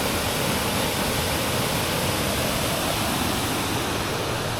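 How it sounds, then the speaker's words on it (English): Steady, dense hiss of rain falling in the Maine wilderness, continuous and even throughout, with no voices. "You hear the sound of that rain?"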